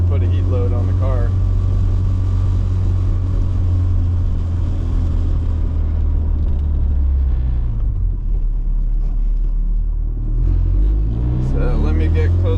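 A 10th-gen Honda Civic Si with a turbo engine heard from inside, with a loud low engine drone that swells, eases off, then climbs again as it accelerates, while a voice talks over it at the start and end.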